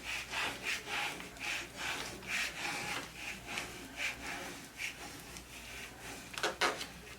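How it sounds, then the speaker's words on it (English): A small scraper tool is rubbed firmly over transfer tape laid on cut vinyl on a wood project, giving repeated soft scraping strokes at a steady back-and-forth rhythm, close and fairly quiet. "Take my little scraper tool and just come by and just scrape this down."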